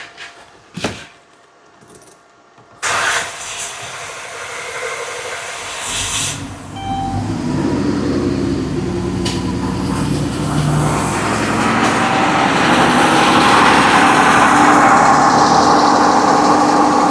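A 2014 Dodge Grand Caravan with a cylinder 5 misfire cranks and starts, then settles into a steady rough idle that grows louder and fills the space, heard up close with no talking.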